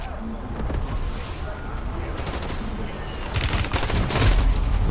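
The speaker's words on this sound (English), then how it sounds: "Who is shooting at me?" Gunfire in Call of Duty Warzone comes as a dense, continuous clatter of shots beneath a noisy game mix, building louder toward the end.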